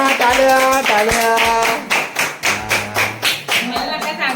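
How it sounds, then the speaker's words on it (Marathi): A group claps together at a Mangalagaur gathering in Konkan, a string of sharp, loud slaps settling into a steady rhythm, heard close over a tonal musical background and some chatter. "टाळ्या टाळ्या टाळ्या."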